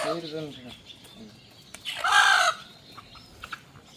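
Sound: desi chicken clucking before slaughter

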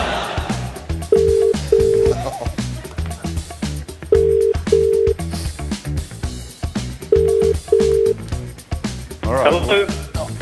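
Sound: telephone ringing tone during a live phone call

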